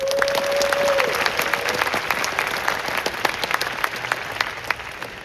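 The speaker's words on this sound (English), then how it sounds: "So give a big round of applause to LA Hacks." Audience applause at the LA Hacks hackathon opening ceremony: a dense, sustained wash of many hands clapping, loud and steady for several seconds, with a brief tone near the start and no talk.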